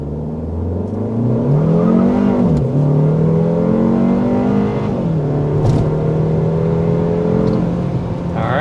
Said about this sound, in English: we need to start with that hard acceleration.